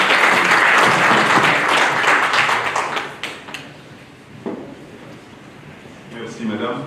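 An audience at a university conference session applauds a speaker's arrival, with loud, dense clapping that thins into scattered claps and fades toward the end as a voice speaks.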